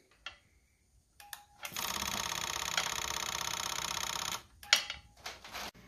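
A 1991 Yamaha VMAX motorcycle engine, out of barn storage and running on a jump pack, cranks briefly, then catches into a fast, rattly, even buzz for about three seconds before cutting out, followed by a few clunks.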